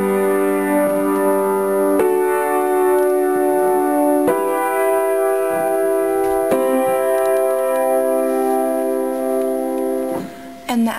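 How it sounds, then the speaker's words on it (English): Piano chords for the chorus ring out one after another, struck roughly every two seconds and left to sustain, close and clear with no talking. "So the chorus chord progression is going to sound like this."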